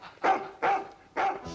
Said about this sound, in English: Do keep that dog quiet, or he'll have you for disturbing the peace.